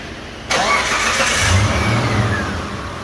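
A car engine cranks and catches with a sudden loud onset, then settles into a steady mid-pitched idle with a slight rev, close by, during a brake fluid refill and calibration check on a car fitted with added electronics and lights.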